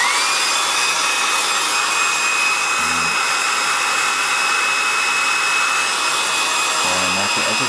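A hair dryer blows steadily and loudly on fresh paint of a circus tent painting, a continuous whine with a faint high tone throughout, alone with brief low knocks near the middle and end.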